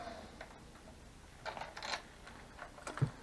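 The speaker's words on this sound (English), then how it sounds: "Just turn it like that to unlock it, and it slides out sideways." A key turning in the lock of a Giant Fathom E3 e-bike battery, then the battery sliding out sideways, giving quiet close mechanical clicks and a short scraping slide with a final knock.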